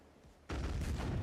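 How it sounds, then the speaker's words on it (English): A cannon fires in a video game, a sudden loud booming blast that bursts in after a quiet moment and rolls on as a sustained roar. "shot the wrong cannon"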